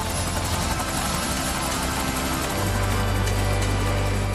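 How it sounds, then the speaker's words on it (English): Police helicopter flying over a road pursuit, a loud steady rotor and engine drone that swells and deepens midway, alone with no talking. "The chopper coppers will be above the pursuit in seconds."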